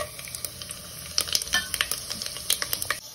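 Whole spices frying in vegetable oil in a pressure cooker give a soft steady sizzle, with scattered close metallic clinks and scrapes of stirring that grow busier midway.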